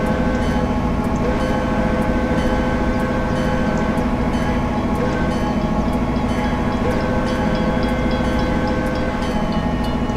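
Train passing in the Train Simulator 2020 video game, loud continuous rumble with rhythmic clickety-clack of wheels over rail joints and a steady mechanical drone, no talk.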